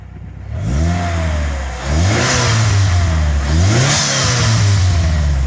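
A turbocharged 2.2-litre Saturn Vue engine close by revs up in two or three sharp blips, pitch rising and falling between each burst over a steady idle.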